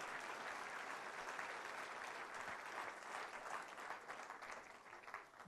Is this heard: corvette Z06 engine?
no